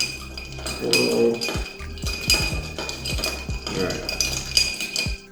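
A bourbon cocktail stirred in a glass, with close bright clinks and taps of metal against glass in an irregular rhythm, and a voice speaking briefly at the start.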